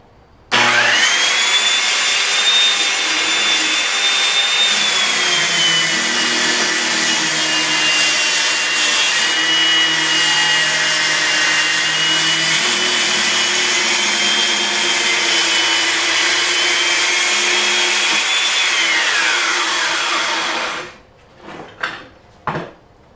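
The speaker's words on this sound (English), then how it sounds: "I lower the saw into the cut, and then I just, as quickly as I can, make the cut all the way through." A circular saw rips through wood guided along a clamped straight edge, a loud continuous close whine lasting about twenty seconds before the blade spins down, followed by a few short knocks.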